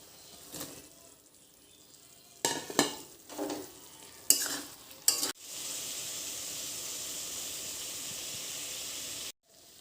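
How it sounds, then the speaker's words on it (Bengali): Soybean chunks and potato are tipped into a hot pan and stirred, with scraping bursts giving way to a loud, steady sizzle of frying that cuts off sharply at the end. "এর মধ্যে এখন দিয়ে দেব সয়াবিন আর আলুটা"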